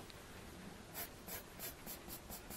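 A pencil sketches shading on paper for a golf portrait, about seven soft rhythmic scratching strokes near the mic, quiet against low room hiss.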